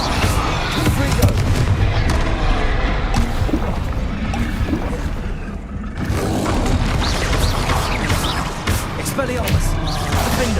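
Magic blasts from the Confringo spell in Hogwarts Legacy burst in a dense, continuous stream of booming impacts and crackles amid busy game music and effects, with a short lull in the middle before it swells again.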